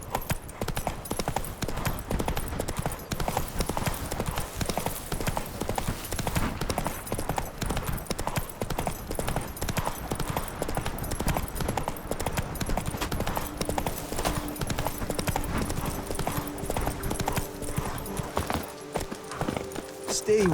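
A horse gallops through The Witcher 3: Blood and Wine, rapid hoofbeats pounding in a continuous rolling rhythm throughout, loud and close, with a low steady hum beneath.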